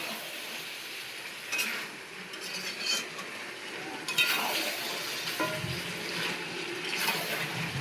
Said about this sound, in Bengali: মাংস কষাচ্ছি